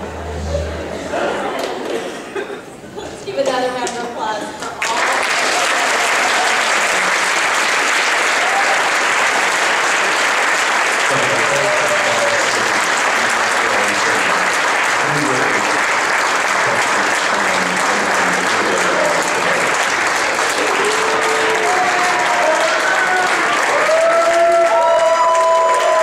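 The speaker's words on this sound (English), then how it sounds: "Let's give another round of applause for all." Loud, sustained audience applause fills a Mr. North 2013 pageant hall, beginning after a few seconds of quieter crowd noise and continuing as a dense, even roar of clapping with scattered voices and cheers over it.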